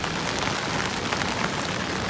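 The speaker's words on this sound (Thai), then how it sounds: "และแล้วฝนก็ลงมาอีกหาใหญ่เลยครับ" Heavy rain pours down near a mangrove forest and small island in Takua Pa, Phang Nga, a dense, steady hiss of drops striking surfaces that stays loud and even throughout, with no voices.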